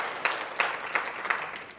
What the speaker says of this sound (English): clap if you're committed